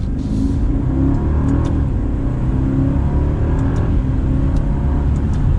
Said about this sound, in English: We're gonna do one last acceleration for today.